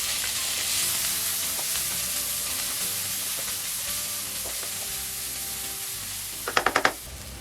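Spring onion roots sizzle and fry steadily in a pan, a continuous crackling hiss with a few sharp scraping clicks near the end.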